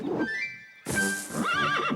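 A horse gives a short sound, then after a brief pause a long, loud, close whinny with a wavering pitch, in a 1998 Pippi Longstocking animated episode.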